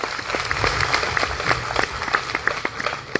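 A crowd at an election campaign rally in Surat applauds, dense clapping holding steady throughout before thinning slightly at the end.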